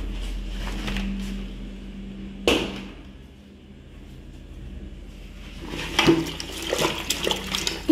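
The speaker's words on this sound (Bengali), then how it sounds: "এটা জল দিয়ে ধুতে হবে" Tiffin boxes being rinsed with water in a home bathroom, with running and splashing water in short bursts, a louder splash partway through and more handling clatter toward the end.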